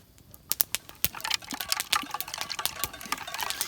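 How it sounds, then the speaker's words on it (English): Ice cubes clinking and rattling in drinks at a lakeside canoe-trip birthday gathering, a series of sharp close clicks and taps with light liquid movement, growing busier toward the end. "That's the sound of ice in our drinks."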